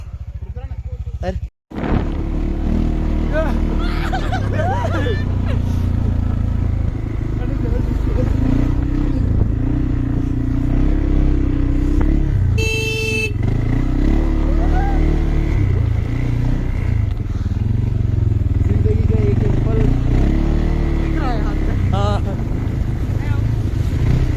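Steady engine drone of a motorbike ridden through the Manali area of Himachal, loud and continuous with wind buffeting, a brief dropout near the start, and people talking over it throughout.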